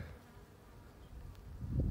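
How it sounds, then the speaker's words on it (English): A wasp buzzes around a packaged beehive, a faint drone that swells louder and closer toward the end as it passes near. "something is buzzing me. Seems like a wasp. I think it is. Damn wasp."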